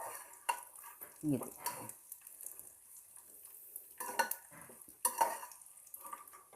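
Sorghum grains are lightly fried over low heat and stirred in a pan for flaxseed laddoos, with scraping stirs, soft sizzling and metallic clinks close by. A voice briefly speaks over them.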